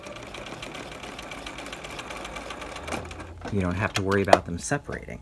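A sewing machine stitches piping onto a V neckline. Steady mechanical whirring runs through the clip under a person's voice, and the voice grows louder and more prominent toward the end.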